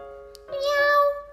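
A single drawn-out cat meow, clear and close, rising then fading over about a second with a short quiet lead-in; it may be a voice imitating a cat rather than a real animal.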